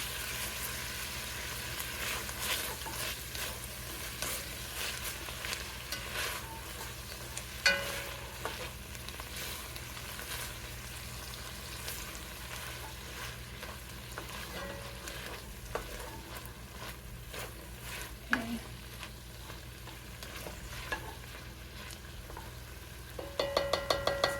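Lamb taco filling sizzling in a frying pan while being stirred and scraped off the bottom, a constant close frying hiss broken by scattered utensil scrapes and taps, louder clatter at the very end.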